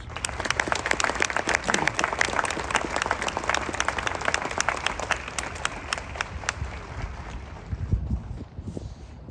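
Audience at a combat medic training graduation at Fort Sam Houston applauding the graduating soldiers: a broad, continuous round of clapping that tapers off near the end as a few low voices come through.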